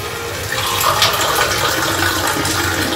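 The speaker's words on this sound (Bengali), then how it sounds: "এরকম কাপের ঠিক এতটা জল আমি পাঁচবার দেব" Water poured from a cup into a cooking pot for chicken soup, a continuous close splashing stream lasting a few seconds.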